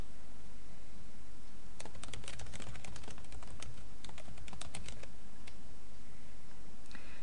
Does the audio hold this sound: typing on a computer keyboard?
yes